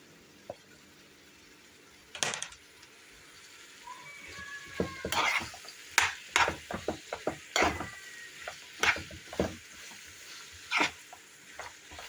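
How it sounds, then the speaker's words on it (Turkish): Minced meat and diced onions sauté faintly in oil in a pan with scattered clicks and scrapes of stirring, quiet and close. "Kıymam burada sıvı yağla birlikte sotelenirken soğanımızı doğrayalım"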